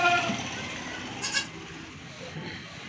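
A five-month-old Makhi Cheena goat kid from Niwai, Tonk, weighing about 28 kg, gives a brief bleat amid noisy outdoor background while someone talks nearby.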